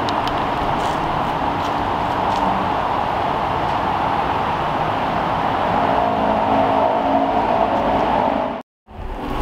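Rimac Nevera electric hypercar driving nearby, a steady loud whirring drive noise sustained for several seconds with a rising tonal whine, then a brief dropout before resuming.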